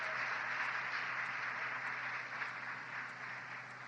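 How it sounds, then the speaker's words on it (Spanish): A congregation applauding during a 1993 church service in Lima: a continuous, even wash of many hands clapping together, heard from a distance through a muffled, hissy old recording, with no talking. "vamos a darle un aplauso al Señor"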